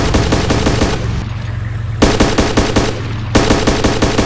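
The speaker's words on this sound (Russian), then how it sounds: "Стреляю." Automatic gunfire from the video game Arma 2 rattles off in rapid, loud bursts, with two short pauses between volleys and no talk over it.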